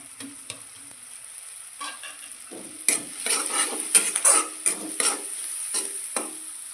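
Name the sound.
spices poured into pan and stirred while frying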